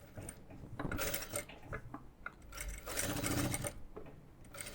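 Sewing machine stitching over garment lining, a steady quiet mechanical whirring with rhythmic needle clatter that rises and eases in short runs.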